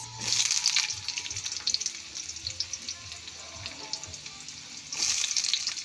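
Onion dropped into hot oil in a pan of tofu and garlic for a Filipino vegetable adobo, a steady frying sizzle with bursts of water-like hiss at the start and end, no voices.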